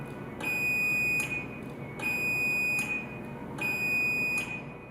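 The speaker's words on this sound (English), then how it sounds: "The opener beeps and lights flash slowly 5 times." A LiftMaster 8500W wall-mount garage door opener gives three evenly spaced high electronic beeps, each about a second long, clear and fairly close over a steady low background hum.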